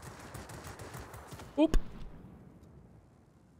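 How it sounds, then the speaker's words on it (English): Large caliber cannon fire and an explosion in a warplane video game, a few sharp loud bursts over ongoing game noise, with a player's brief exclamation. "That's a large caliber cannon to the face."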